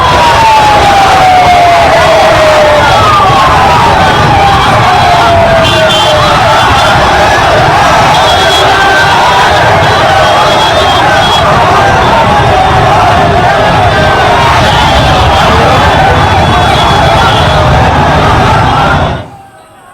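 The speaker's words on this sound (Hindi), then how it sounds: "ये हुजूम जो आप देख रहे हैं, ये उनके अंतिम दर्शन के लिए भीड़ थी" A huge crowd of mourners packs a street for a last viewing of the deceased, making a loud, continuous roar of many voices with scattered shouts and cries, steady throughout before cutting off abruptly at the end.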